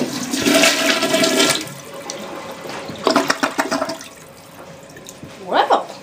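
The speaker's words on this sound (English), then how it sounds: "I'm guessing this will take at least two flushes." A Cimarron RV toilet flushes old food and corn waste with a loud rushing surge of water, followed by a second, shorter burst of flushing later on, with a brief voice between.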